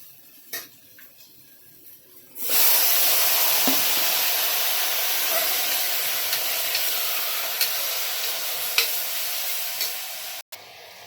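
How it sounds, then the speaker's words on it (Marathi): Chicken drops into a hot pan of masala, and a loud, sudden sizzle bursts up. It holds as a dense, continuous frying hiss, with faint stirring clicks scattered through it. "आता ह्याच्यात चिकन टाकून घेऊया"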